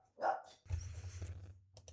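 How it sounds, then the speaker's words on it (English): A dog barks off in the background of a room, one loud bark followed by a longer rough, growly bark and a faint trailing yelp. "my dog was barking a lot in the background"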